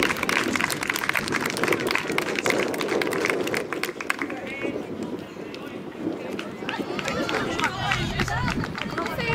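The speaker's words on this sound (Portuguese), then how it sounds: "um forte aplauso mais uma vez para a Inês, para a Joana e para a Ana Araújo" Spectators applaud at a youth athletics meeting in Matosinhos. Clapping mixes with crowd chatter and an announcer's talk, staying busy and fairly loud throughout.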